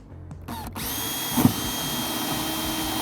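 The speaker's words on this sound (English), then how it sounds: "where you're going to be drilling your holes." A power drill whirs steadily, boring mounting holes for a Psionics Nightwave install, with a brief clunk partway through and the motor holding a constant high whine to the end.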